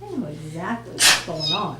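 A person sneezes once during a trustees meeting, a short sharp burst set between stretches of talking voices.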